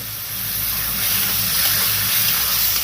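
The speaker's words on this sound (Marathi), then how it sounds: "हे पाणी टाकायचं" Water pours steadily into a cooking pan of dried Bombay duck for a few seconds, a close, continuous gushing splash that grows a little louder.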